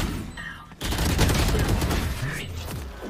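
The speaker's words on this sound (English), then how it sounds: "He's shooting" Sustained rapid gunfire from the tactical shooter Valorant, loud and dense bursts after a brief quieter lead-in, with players talking over the shooting.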